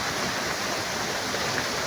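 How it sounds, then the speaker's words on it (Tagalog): Heavy rain pours down in a dense, unbroken hiss that stays loud and even throughout, with no voices or breaks. "Napakalakas talaga ng ulan dito ngayon"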